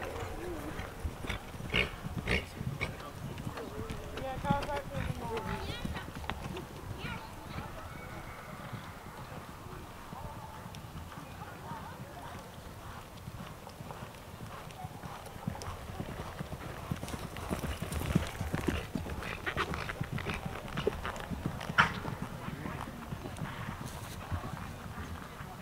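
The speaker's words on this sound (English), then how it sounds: "Canter, please. Canter your horses, please." Horses cantering in a riding arena, a steady rhythmic clip-clop of hooves throughout, with occasional snorts and an instructor's voice calling out over the riding.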